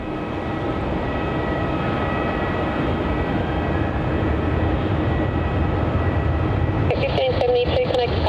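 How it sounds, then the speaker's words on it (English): A Virgin Australia Boeing 737, flight VA195 to Nadi, rolls for takeoff at Melbourne Airport, a steady broad jet roar from a distance, with a radio voice breaking in near the end. "And clear for takeoff here for that Virgin 7-3 heading off to Nadi"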